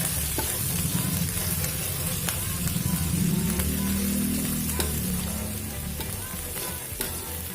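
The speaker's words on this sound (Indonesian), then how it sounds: "Kita tumis bumbunya hingga matang dan harum ya teman-teman." Lemongrass, lime leaves and curly red chili sautéing in a pan, a steady close sizzle with stirring that holds evenly throughout, with no talk over it.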